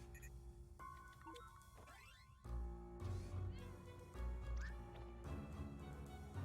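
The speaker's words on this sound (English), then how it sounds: "Come on, kitty." A faint cat meow rises from a video game's soundtrack in Imposter Factory, set among musical tones and shifting effects, with a low rumble in the background and no one speaking.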